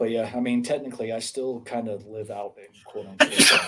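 Someone talks, then a loud sudden sneeze bursts out near the end, close and forceful.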